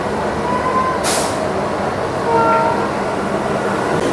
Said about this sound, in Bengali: ট্রেন ক্রস করছে দেখতে পাচ্ছ